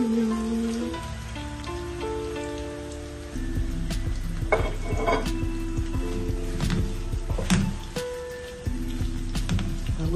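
Onions frying in sunflower oil in a pot, giving a steady crackling sizzle that holds throughout, with music playing underneath.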